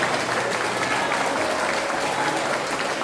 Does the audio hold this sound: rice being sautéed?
no